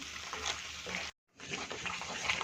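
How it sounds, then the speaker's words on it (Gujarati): Water splashes and pours into cashew curry gravy in a pan in a soft, bubbly rush, broken by a brief silence before continuing. "આપણે એમાં જરૂર પૂરતું થોડું પાણી એડ કરીશું"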